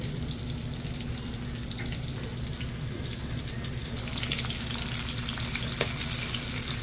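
Garlic and onion frying in a pan, with a steady sizzle, occasional stirring and a low background hum, no voices.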